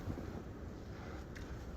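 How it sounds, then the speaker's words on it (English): Wind gusts in a Buffalo blizzard with heavy snow, buffeting the microphone as a steady, dense low roar with no speech. "Look at these wind gusts."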